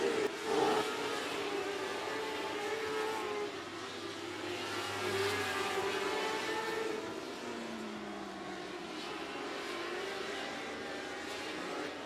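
Race cars lap 105 Speedway during a regular race program, engines roaring past at a distance in a continuous blended drone, with pitch sweeps as cars go by.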